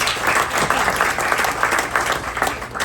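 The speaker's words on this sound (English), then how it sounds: "But let's give a round of applause to Martin" Audience applause at a community growth-advocacy member meeting, a steady dense wash of many hands clapping together, fairly loud and sustained without pause, heard alone with no speech over it.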